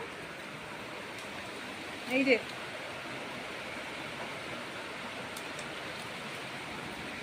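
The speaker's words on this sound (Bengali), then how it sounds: "জোরে বৃষ্টি এসেছে" Heavy rain pours down as a constant, dense hiss throughout, with a voice speaking briefly near the middle.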